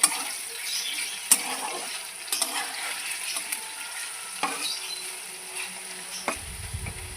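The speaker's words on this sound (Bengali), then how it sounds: "আর এদিকে এখন চিপস আলু ভাজা হচ্ছে" Potato chips coated in salt, turmeric and chili powder fry in hot oil, giving a steady close sizzle broken by occasional pops and light clinks, with no talking.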